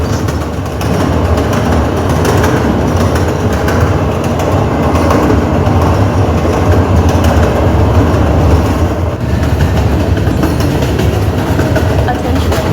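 A New York City subway train on the IRT Lexington Avenue line runs loudly and up close, a continuous rumbling roar with rattling car noise and a faint rhythmic clack that holds steady for over twelve seconds.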